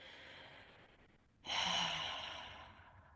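A deep breath taken during a breathwork exercise: a quiet, airy inhale is followed by a louder, rushing exhale that fades slowly, close and with no talking.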